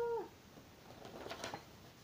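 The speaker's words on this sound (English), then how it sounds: "Oh, that's another cat." A cat meows once under a table, a short, faint cry at the very start, followed by quiet room noise and some soft, indistinct rustling.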